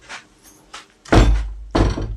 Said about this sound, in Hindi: तो हम दरवाज़ा लगा के आते हैं गाइस।